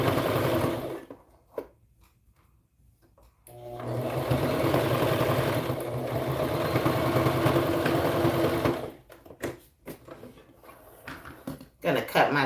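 A sewing machine back stitching the seam on tiny preemie shorts, running in a steady loud whir for several seconds, stopping, then giving a few short bursts; a voice speaks over the quieter start and end.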